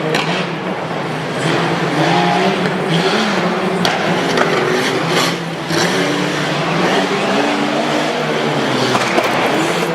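Race cars roar around a track at a Harrisburg, PA auto race, with loud steady engine noise and a scraping texture throughout; a tire blowout cannot be picked out distinctly.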